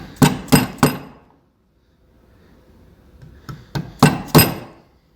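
A mallet strikes a chisel cutting straight down into wood for a door hinge, heard as sharp, loud, close knocks: three quick blows, a pause with faint scraping, then a further series of strikes.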